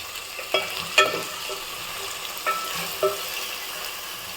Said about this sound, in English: allow all the potatoes to have an initial fry